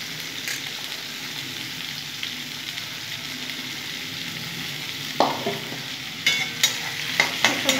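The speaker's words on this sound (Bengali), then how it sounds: "পেঁয়াজগুলো কিছুক্ষণ ভেজে ভেজে নেব" Chopped onions sizzle in oil in a pan, a steady frying hiss throughout, with a few scraping stirs of a spatula near the end.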